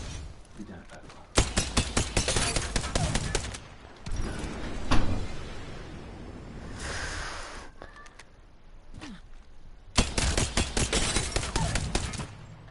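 Rapid bursts of automatic fire from the Rampage light machine gun in Apex Legends, one long volley followed later by a second. Quieter handling noises sit between the bursts, and a voice talks during the pause.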